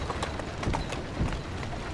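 Horse hooves clip-clop in Assassin's Creed Syndicate at a steady walking rhythm, moderately loud over a dense background of game ambience.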